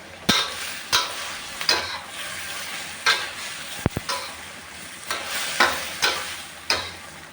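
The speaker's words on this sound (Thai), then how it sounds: "นี่ก็ผัดไปเติมน้ำไปนะคะ" Pork, chicken and tomatoes stir-fried in a pan for a Thai sweet-and-sour dish, with a steady sizzle broken by about ten sharp scraping stirs at roughly even intervals, close and moderately loud, with no talking.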